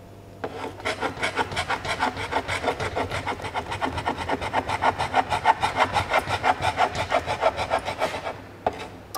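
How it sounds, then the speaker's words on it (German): A sharp blade scrapes heat-softened old paint off a historic wooden window frame, a steady, rapid rasping stroke after stroke, close and loud, running continuously for several seconds with no talking. "Nach der Analyse kann der alte Lack komplett runter. Mit ordentlich Hitze und einer scharfen Klinge."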